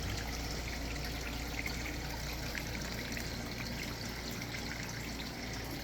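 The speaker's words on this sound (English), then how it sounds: "Creek is looking good." Water trickles steadily through a small backyard creek built as a regenerative ecosystem, a constant close babble with no pauses and no voices.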